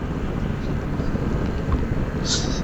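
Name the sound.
passing motorcycle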